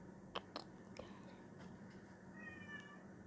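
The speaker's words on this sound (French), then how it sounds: "il y a le chat en plus qui arrête pas de miauler" A cat meows repeatedly in the horror video game Evil Nun, giving a few faint, short cries and then a longer drawn-out meow against a quiet, hissy game ambience.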